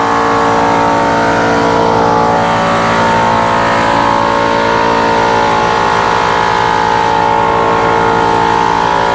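A tractor engine running loud and close, holding a steady, harmonic-rich drone throughout with no voices.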